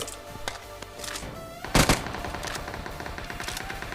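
Gunfire in a mobile shooter video game: scattered distant pops and short bursts, with one louder, sharper volley in the middle.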